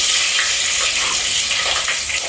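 Onion and green chilies frying in hot oil for a Telugu bendakai sambar, a steady close sizzle and crackle that hisses on without pause and with no voices over it.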